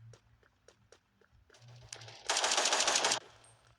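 Gunfire rings out in an online shooter video game, with several short isolated shots early on, then a loud, sustained automatic burst near the end, all close and without speech.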